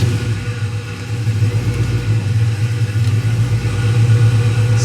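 An old truck engine, running for the first time after ECU programming, holds a steady, loud, low rumbling idle close by throughout, with no clear cranking or starting moment.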